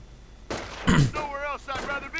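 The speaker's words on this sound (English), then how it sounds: "that artillery is still proving to be quite the threat" Artillery fire in a real-time strategy video game: two sharp booming blasts land in quick succession under continuous spoken commentary.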